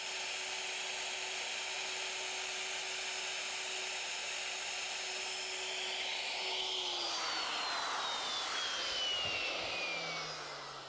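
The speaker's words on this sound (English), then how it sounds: "We're routing the through mortises in our legs." A handheld router with a carbide bit cuts a through mortise in a wooden table leg for a Mission-style ottoman, a steady high whine that holds, then its pitch sweeps down near the end as the motor winds down.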